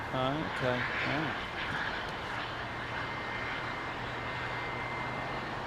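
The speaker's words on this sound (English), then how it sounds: "Hear him starting his engine up." A jet aircraft engine starting up at London Heathrow Airport, a steady rising whine and broadband roar; someone speaks briefly at the start over the noise.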